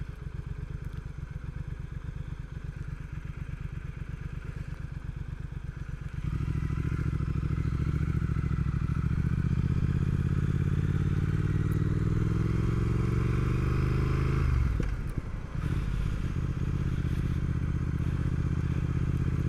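A motorcycle rides along a test route, its engine droning steadily, then pulling harder with rising revs, easing off and settling back, accompanied by constant wind noise.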